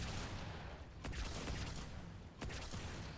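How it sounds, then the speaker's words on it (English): A fuel rod gun fires in Halo 2 with unlimited rounds, two sharp blasts about a second and a half apart, set in dense, continuous battle noise heard faintly. "Unlimited fuel rod rounds is how we roll."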